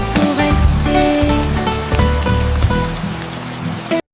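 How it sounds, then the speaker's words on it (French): Rain sound effect in a children's song: dense patter of raindrops mixed with musical tones, loud and continuous before cutting off abruptly at the end. "Les gouttes de pluie tombent, dansent et jouent un jeu de course"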